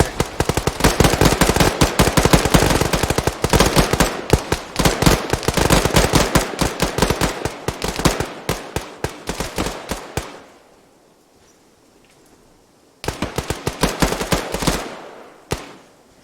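Gunfire in a military simulation video game set in Takistan: loud, dense bursts of automatic fire and single shots rattle continuously, stop for a couple of seconds of near silence, then resume with more rapid shots.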